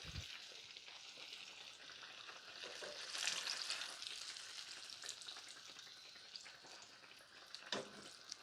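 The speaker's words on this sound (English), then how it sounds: "And basically fry all your eggplant in same exact way." Eggplant slices frying in hot oil, a steady broadband sizzle running throughout with a brief louder crackling surge in the middle and a sharp clink near the end, no voices.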